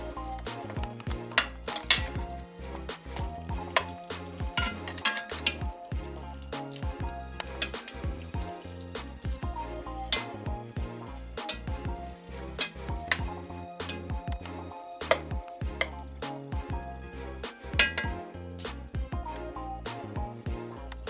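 Broccoli hits a hot pan for spicy Asian oxtail stew, loud steady sizzling and frying with repeated clattering stirs and scrapes of a utensil throughout.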